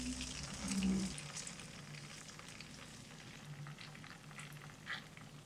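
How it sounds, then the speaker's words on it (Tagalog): A burger patty fries over medium heat in a non-stick pan, giving a steady, quiet sizzle and bubbling that runs throughout, with a low hum underneath and no talking. "Pirituhin natin yung patty into medium heat."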